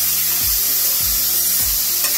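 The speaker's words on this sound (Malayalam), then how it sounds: "നമുക്ക് ഇനി ഇതിൻ്റെ കൂടെ തക്കാളിയും കൂടി ചേർത്ത് കൊടുക്കാം." Onions and tomato frying in a pot for a Kerala chicken mappas curry, with a steady close sizzle and a few regular scraping stirs of a spoon against the pot, no voices.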